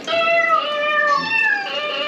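A cat meows from an interactive sound feature on a farm display at a theme park, one drawn-out, slightly wavering meow lasting about two seconds, close and clear, with nothing else heard.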